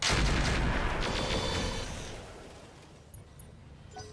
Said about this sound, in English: we're going to continue to fire on the Archer